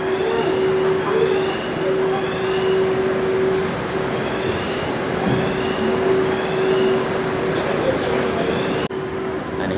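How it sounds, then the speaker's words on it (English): An amusement ride train at Blackpool Pleasure Beach rumbles steadily along its track with a constant low drone and a high whine, continuous throughout, then the sound drops abruptly near the end. "The train's about to come out."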